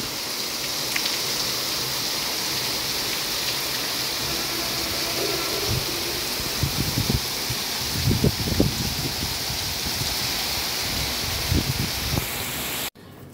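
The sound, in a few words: cool rain falling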